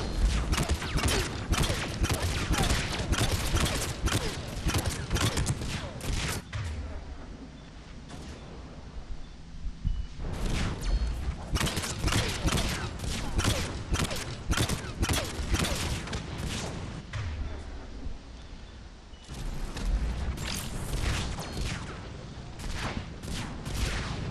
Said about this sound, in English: Right here I'm using a sniper rifle.